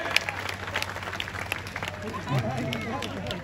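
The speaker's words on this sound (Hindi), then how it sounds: "सरदार मंजीत सिंह के लिए जोरदार तालियां बजाइए" Clapping from the audience at a humorous kavi sammelan poetry event in Bihar, for Sardar Manjeet Singh, scattered at first then swelling into fuller applause, with crowd chatter and voices underneath.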